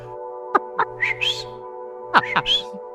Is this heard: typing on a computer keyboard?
no